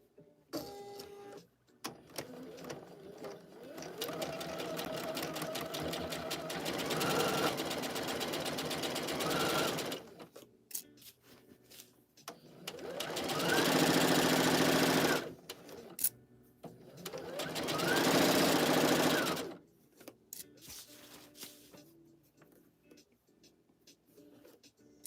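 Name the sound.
sewing machine stitching shoulder seams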